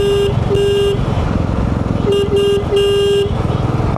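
A Royal Enfield Meteor 350 motorcycle horn, at 50,000 km and due for cleaning, honks in a pattern of short and long blasts over a steady engine rumble, close by.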